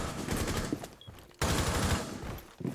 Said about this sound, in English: Try to shoot as many of the C4s as you can